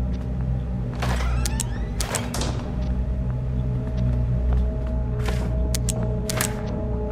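Doors in the video game The Joy of Creation are opened and shut, giving a handful of short mechanical clunks and slides over a steady low droning hum, with no voices.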